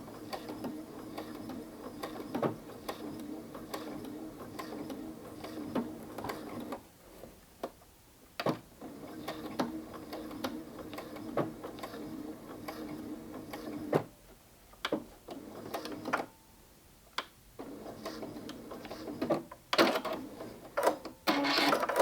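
A sewing machine runs in steady mechanical bursts while stitching appliqué on a gnome mug rug, its rhythmic whirring and ticking broken by brief pauses and stops, close and continuous with no talking.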